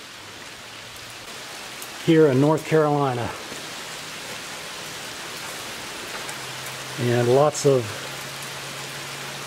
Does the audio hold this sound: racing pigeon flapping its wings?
no